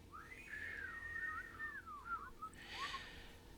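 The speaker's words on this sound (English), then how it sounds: "they heard a far-off whistling coming from deep in the Dream Halls" A far-off whistling winds through a long, wavering melodic line, then breaks into a few shorter trailing notes against a quiet background.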